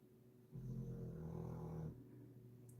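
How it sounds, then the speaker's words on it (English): Dog snoring softly nearby, one low rumbling drawn-out snore swelling and fading in a quiet room. "Dog snoring."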